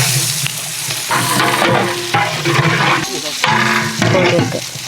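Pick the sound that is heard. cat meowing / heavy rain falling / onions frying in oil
onions frying in oil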